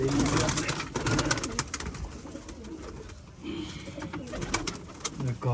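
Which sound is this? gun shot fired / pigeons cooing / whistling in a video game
pigeons cooing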